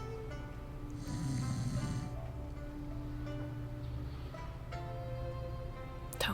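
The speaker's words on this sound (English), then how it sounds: "Nice snoring." Steady rhythmic snoring from a sleeping grandmother character in a video game, soft breaths rising and falling over a continuous hum of background music.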